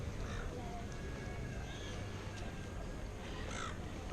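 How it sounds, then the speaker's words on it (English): Birds call from big trees at Watsons Bay in Sydney, including crow-like caws, heard at moderate distance over steady outdoor background noise. "A lot of birds in here"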